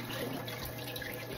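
Tap water runs steadily into a kitchen sink while dishes are washed, a continuous close hiss and patter with no speech.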